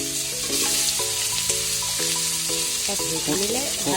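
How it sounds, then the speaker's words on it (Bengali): Cauliflower frying in a pan for a home-cooked fish curry with potatoes, a steady close sizzle running throughout while a melodic tune plays loudly over it. "এবার ফুলকপি ভাজা হবে"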